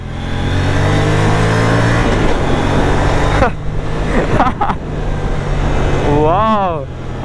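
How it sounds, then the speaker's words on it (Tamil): An Aprilia RS 457 motorcycle exhaust note while riding, a loud continuous engine drone that rises and shifts through gear changes around the middle, with someone talking over it. "வண்டி ஓட்டும் போது அதோட எக்ஸாஸ்ட் நோட்டு வந்து பார்த்திங்கன்னா இன்னும் சூப்பராக இருக்குது"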